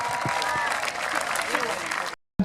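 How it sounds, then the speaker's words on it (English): A crowd applauds an athlete at the Peak District Highland Games, with scattered outdoor clapping beneath a commentator's voice that stops abruptly after about two seconds. "Round of applause there for Kim."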